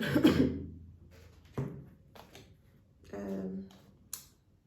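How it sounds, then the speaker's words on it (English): A single cough near the start, close and fairly loud, with a throat rasp trailing after it. Fainter ticking and small knocks follow in an otherwise quiet indoor room. "Sorry about my cough."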